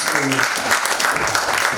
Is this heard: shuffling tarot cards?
no